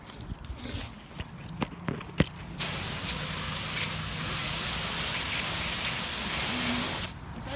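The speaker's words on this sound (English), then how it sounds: "I'm just gonna rinse this side off." A water spray rinses a dirty Prodrive GC-07 car wheel in a loud, continuous hiss lasting several seconds, preceded by scattered knocks and clatter, and it cuts off sharply near the end.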